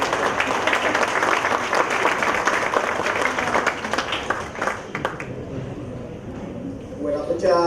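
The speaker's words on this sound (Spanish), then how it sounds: "lo recibimos con fuertes aplausos" Loud applause from the audience at a bilingual intercultural education policy consultation event, a dense wash of clapping lasting several seconds that thins toward the end as a voice begins speaking.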